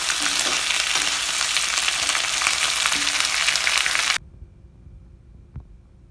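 Curry leaves sauté in a hot pan for a chutney, giving a loud, steady broadband sizzle for about four seconds before cutting off to near silence with one faint knock.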